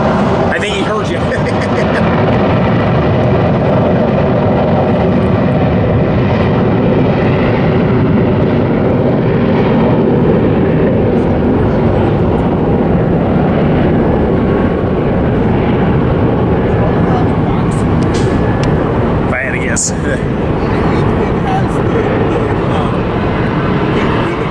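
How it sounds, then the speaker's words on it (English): An airplane passes overhead near a spot where trains also run, a loud continuous engine roar that fills the whole stretch, with people talking underneath. "there goes that plane"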